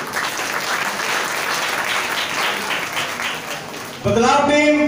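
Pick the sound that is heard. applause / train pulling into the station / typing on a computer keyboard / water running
applause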